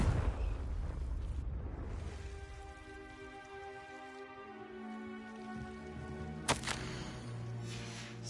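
A Confringo fire spell explodes in Hogwarts Legacy, a loud burst at the start that decays into rumble, followed by sustained tonal ringing and one sharp crack later on.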